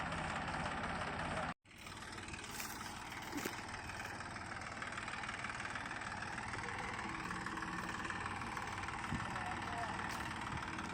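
A tractor engine idles steadily at a constant low rumble throughout, with a brief dropout near the start.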